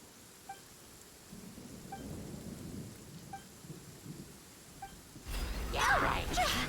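Rain and thunder in Genshin Impact, a steady wash of rain with faint periodic chimes, then a louder rumbling thunder burst near the end, with speech present.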